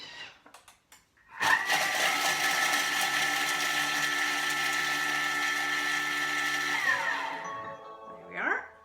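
A Thermomix chopping mint at speed 7: a sharp, steady, high-pitched whirring that starts abruptly and holds for several seconds before spinning down, with a little talk just before it starts.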